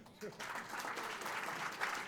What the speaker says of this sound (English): Everyone, please, a round of applause for Mr.